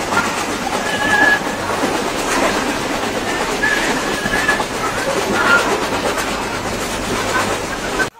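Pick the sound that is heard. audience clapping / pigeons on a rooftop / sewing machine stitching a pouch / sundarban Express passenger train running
sundarban Express passenger train running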